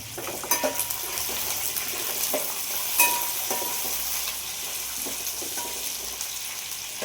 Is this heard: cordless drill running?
no